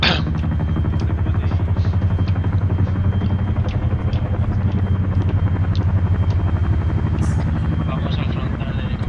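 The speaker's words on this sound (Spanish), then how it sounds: "Vamos al frontal del helicóptero." A helicopter's engine and rotor run close and loud, a constant heavy, throbbing roar with a fast, steady blade pulse that does not let up.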